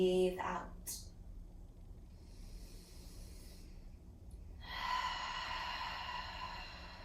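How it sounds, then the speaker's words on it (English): A person slowly exhales during a post-run yoga session, one soft, breathy release fading out. A quieter stretch of room tone follows before a steady hum rises near the end. "Breathe out."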